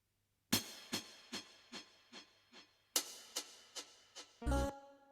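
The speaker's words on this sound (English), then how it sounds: "there is a hi-hat from a drum kit that has a bunch of delay on it that sounds like this" A drum-kit hi-hat with heavy delay: two crisp hits, each trailing into a train of quieter, evenly spaced echoes, before a brief tonal burst near the end.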